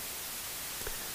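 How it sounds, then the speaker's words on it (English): Steady broadband white noise played back as a two-channel recording, a loud, even hiss filling the whole clip without interruption. "So I've got two channels here with exactly the same recording of white noise on it."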